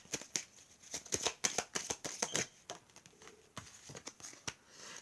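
Tarot cards riffled and shuffled by hand, a close, quiet run of quick papery flutters and taps in uneven bursts with brief pauses between them.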